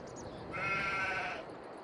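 A sheep in the video game Farming Simulator 22 lets out a single wavering bleat, clear and fairly close over a low game ambience, with no talk.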